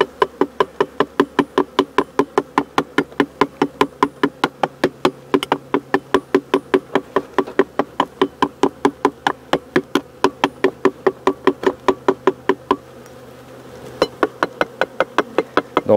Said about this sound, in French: C'est la méthode de tapotement.